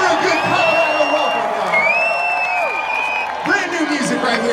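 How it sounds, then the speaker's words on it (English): At a live concert in Denver, a crowd cheers with scattered whoops and rising whistles over a steady roar of noise. Clapping mixes into the din throughout. "Give her a good clap and a welcome, y'all."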